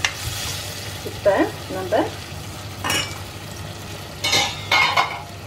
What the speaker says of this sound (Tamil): காயெல்லாம் ஓரளவு வதங்கிடுச்சு.